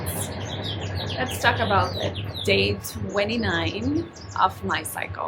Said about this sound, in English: there's a beautiful bird chirping.